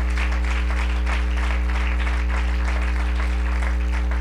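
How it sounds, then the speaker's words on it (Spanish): A church congregation applauds together, dense continuous clapping held at a steady level over a loud, sustained electronic hum that runs throughout. "Dele un aplauso fuerte al Señor."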